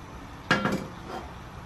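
A utensil stirs a little palm oil in a pan, giving two quick metallic clinks close by, then quiet low background.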